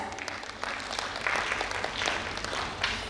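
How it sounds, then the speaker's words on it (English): A short burst of applause from a crowd at a college hostel day celebration, steady and moderately loud, fading slightly toward the end. "please give them another round of applause"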